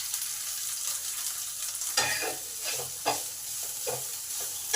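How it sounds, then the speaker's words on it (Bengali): Soybean chunks frying in a pan with ginger, giving a steady sizzle with several stirring scrapes and clatters spaced through it, close and moderately loud. "এবার সয়াবিনগুলোকে দিয়ে দিলাম।"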